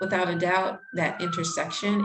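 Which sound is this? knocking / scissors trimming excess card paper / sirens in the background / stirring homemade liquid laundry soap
sirens in the background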